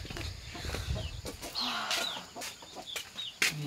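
Chickens cluck around a rural house in Nepal, with a few short calls near and far over faint outdoor background; no talk.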